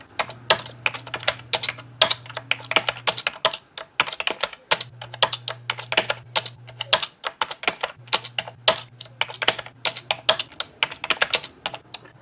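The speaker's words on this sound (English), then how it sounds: "I'm going to type in a few lines of text." Steady bursts of typing on a Tandy WP-2 portable word processor keyboard, close and crisp rapid key clicks with brief pauses, a faint low hum underneath at times.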